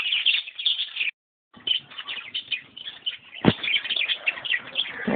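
Pet budgerigars in a breeding colony chirp and twitter continuously and close by, with a brief pause and bursts of wing flapping, no talking.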